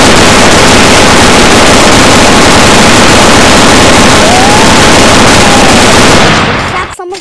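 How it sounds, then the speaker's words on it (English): A zapping gun fires in a Roblox video game, a dense, continuous rapid burst of shots that stays loud and steady for nearly seven seconds before cutting off abruptly. "Wait, that's a zapping gun?"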